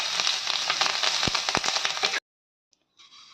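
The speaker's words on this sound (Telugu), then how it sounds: "ఈ బీరకాయ పొట్టు వేసుకొని మంచిగా ఇది పచ్చి వాసన ఇట్లా పసరు పోయేదాకా వేయించుకోవాలి" Ridge gourd peel fries in a pan for a chutney, a loud, dense crackling sizzle with sharp pops and spatula scrapes that cuts off abruptly, then a faint burst of sizzle returns.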